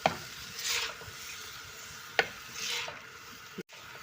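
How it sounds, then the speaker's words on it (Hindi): Chicken being stir-fried with crushed chili flakes and whole spices, a moderate sizzle rising and falling as a spoon scrapes the pan in a few distinct strokes, ending with a sharp knock. "और अब हम इसकी अच्छी तरह से भुनाई करेंगे।"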